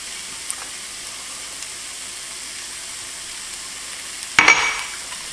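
Carrots hit a hot beef and cabbage stew pan and are stirred in: a quiet stretch, then a sudden loud sizzle that flares and slowly tapers off near the end.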